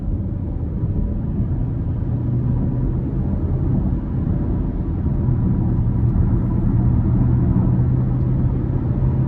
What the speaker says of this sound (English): But we're gonna go ahead, give it some throttle here